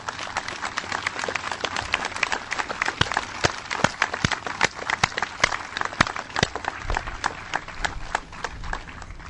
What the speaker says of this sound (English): let's give these members of the armed services a round of applause